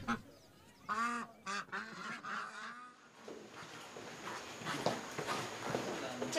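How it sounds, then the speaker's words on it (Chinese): Liancheng Baiwu ducks, a black-billed, black-footed breed, let out several nasal honking quacks in quick succession, followed by rustling and shuffling movement nearby. "鸭圈里多出了一群乌嘴黑爪的鸭子"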